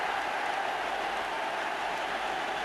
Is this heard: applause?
yes